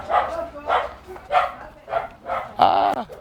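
Dogs bark at a house door in Downey, California: a run of five or six sharp, close barks in a steady rhythm, ending with a louder, higher yelp, with no talk between them.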